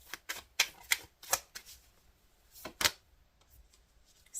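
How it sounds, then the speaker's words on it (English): Tarot cards shuffled by hand, a series of sharp riffling bursts, about seven close, crisp snaps over a few seconds with brief quiet gaps between them and no talk. "I'm going to shuffle."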